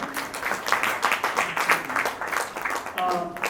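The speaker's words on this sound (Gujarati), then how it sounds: "જોરદાર તાળીઓ તમારા બધા માટે." An audience at a Gujarati book launch breaks into hearty applause, with steady clapping that runs throughout and voices mixed in.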